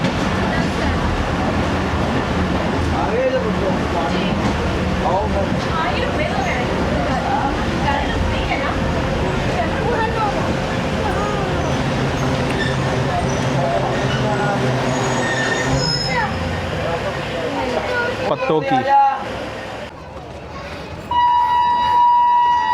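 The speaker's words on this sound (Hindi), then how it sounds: "ट्रेन ने इतना वक्त नहीं दिया और चल पड़ी।" The Allama Iqbal Express at Pattoki railway station rumbles and clatters close by, with wheel squeal and a busy platform wash of voices, ending with a short high beep.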